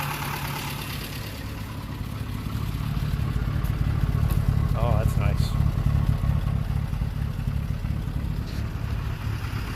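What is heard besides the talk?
old car engine idling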